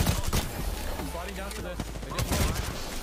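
Gunfire in a competitive video game firefight, dense bursts of rapid shots running throughout, mixed with sharp effects and an excited player voice talking over it.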